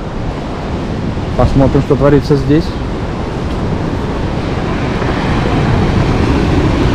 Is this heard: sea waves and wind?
yes